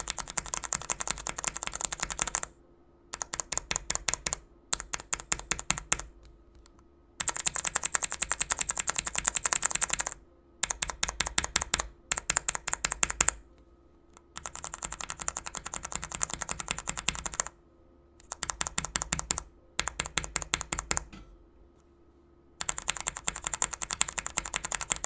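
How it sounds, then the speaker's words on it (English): Typing on an osu! nono RGB keypad, rapid bursts of crisp clicky keystrokes in rhythmic runs separated by short pauses, recorded close to the keys. "you can just hear for yourselves what the keypad sounds like"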